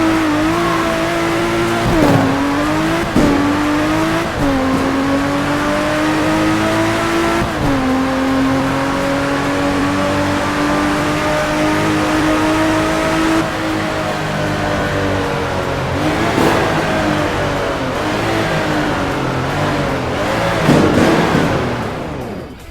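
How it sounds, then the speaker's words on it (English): A Toyota Supra's engine in the Roblox game Greenville drones loudly and steadily for over twenty seconds, its pitch dipping and climbing through several shifts and revs, with a few sharp transient bursts and no talking. "The Supra and Midnight Race in Tokyo sounds so much better than this."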